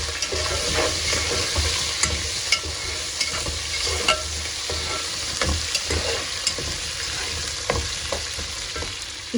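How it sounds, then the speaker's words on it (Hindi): Potatoes fry in hot oil with ginger-garlic paste and spices, giving a continuous loud sizzle. A spoon stirs them with frequent scraping clicks throughout, and no one talks. "डाल दिया अदरक लहसुन का पेस्ट 1 चम्मच और डाल दिया आलू। अब इसको अच्छे से भून लूँगी मैं।"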